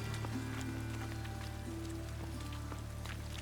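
Rain falls continuously in The Witcher 3 game world, a faint, even patter of drops over a low steady background hum.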